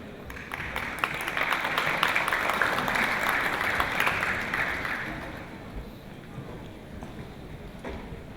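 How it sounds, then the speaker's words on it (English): A crowd applauds at the CQUniversity Sydney 2016 graduation ceremony in a hall, a dense clapping that builds, holds for several seconds, then thins and fades away. "Should have gone to the clapping."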